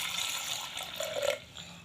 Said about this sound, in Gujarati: હું 1 ગ્લાસ જેટલું પાણી રેડું છું અંદર